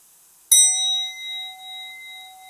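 Temple bell at a Zen temple in Kamakura struck once to begin zazen meditation, a sharp clear strike followed by a long pure ringing tone that slowly fades, alone in near silence.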